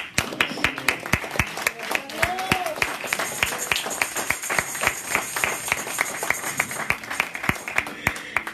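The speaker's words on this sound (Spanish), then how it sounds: "Le da palmas fuertes al Señor." Loud, steady rhythmic clapping from a church congregation, sharp hand claps in an even beat throughout, with faint voices and some sung tones underneath.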